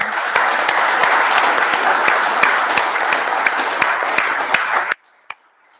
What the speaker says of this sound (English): can we please give one big final round of applause for our newest Australian citizens?